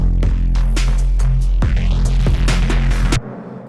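Deep, throbbing dubstep bass notes bounce in a triplet rhythm with sharp percussive hits, loud and close, ending abruptly.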